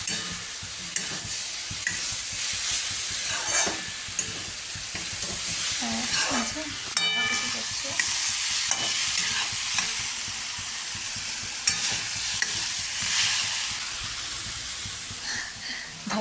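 Bitter gourd frying in a pan, a steady bright sizzle and hiss throughout with occasional stirring scrapes, close and continuous.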